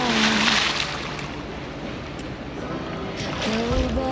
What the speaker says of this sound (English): We're on the boat.